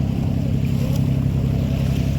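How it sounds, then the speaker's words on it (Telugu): Sea waves at Sentosa beach, Singapore, give a continuous low rolling wash of surf, loud and close, with no voices. "ఇట్లా నీళ్ళు అలల సౌండ్ వస్తుంటే"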